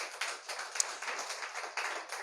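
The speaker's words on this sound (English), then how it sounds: "give him a clap offering." Scattered clapping from a church congregation, a loose patter of hands filling the clip at moderate level with no talk over it.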